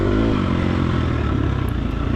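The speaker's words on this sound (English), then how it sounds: "as you can probably hear, I'm not really staying consistently on the throttle" A dirt bike engine on a hot, dusty ranch trail ride, running loud and close with an uneven throttle that rises and dips in a rough, continuous drone alongside some clatter.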